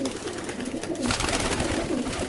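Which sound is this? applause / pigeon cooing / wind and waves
pigeon cooing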